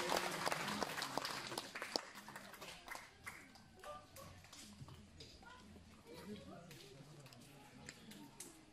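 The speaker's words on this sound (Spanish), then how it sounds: "Fuerte aplauso, por favor," Applause for a young man at a quinceañera party in Solaga, Sierra Juárez, Oaxaca, Mexico: dense crowd clapping loudest at the start, then thinning into scattered claps under the ongoing chatter of the party.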